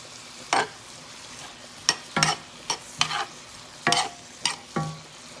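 Mushrooms and onions sautéing on high heat in a hot pan are stirred in several separate bursts of scraping and sizzling, with quiet frying between the strokes and no talking.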